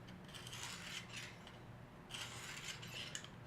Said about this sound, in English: All you do is just kind of rub it down the blade like so.